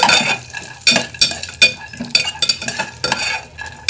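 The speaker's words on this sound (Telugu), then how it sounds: "బాదంలు జీడిపప్పు అండ్ వాల్నట్ అయితే కట్ చేస్తున్నాను నేతిలోకి వేసుకొని ఫ్రై చేసుకుందాం" Chopped almonds, cashews and walnuts fry in ghee in a pan, a close, loud sizzle broken by a rapid series of scraping strokes and clinks as a spoon stirs them, about a dozen sharp stirs in quick rhythm.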